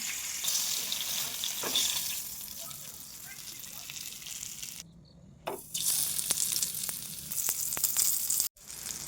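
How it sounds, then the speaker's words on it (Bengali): Steady oil sizzle of pomfret frying in a pan, crackling throughout with a couple of brief dropouts and a few sharp pops. "একবার উল্টে দেওয়া হলো এবার আস্তে আস্তে হালকা আছে ভেজে নিচ্ছি"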